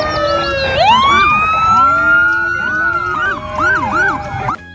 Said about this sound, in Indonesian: Yang ini motor polisi.